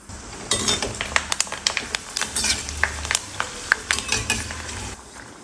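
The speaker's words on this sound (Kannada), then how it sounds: "ಈಗ ಎಣ್ಣೆಲಿ ಕರಿಯೋಣ. ಎಣ್ಣೆ ಬಿಸಿ ಮಾಡಿಕೊಂಡು ಮೆಣಸಿನ್ಕಾಯಿನ ಹಾಕ್ಕೋಬೇಕು." Sun-dried buttermilk chillies fry in hot oil with a steady sizzle, punctuated by frequent clinks and scrapes of a metal utensil stirring in the pan, close and fairly loud.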